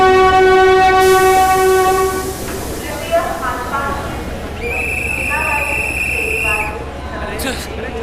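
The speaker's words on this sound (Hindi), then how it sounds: "जल्दी चल वरना ट्रेन चली जाएगी।" The Jodhpur Mumbai Express departs a busy station, with long horn blasts over rumbling wheels and background crowd noise.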